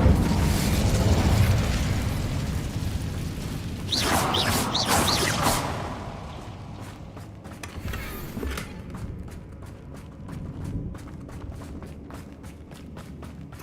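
Fire-spell explosions in Hogwarts Legacy combat, a broad rumbling blast with crackling bursts and whooshes over a steady game soundscape, easing into quieter clicks and pops as the fight settles.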